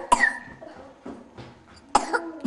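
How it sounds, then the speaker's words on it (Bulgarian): A child coughs in a few separate sharp bursts indoors, close and fairly quiet, with brief gaps between coughs. "Що кашляш ти?"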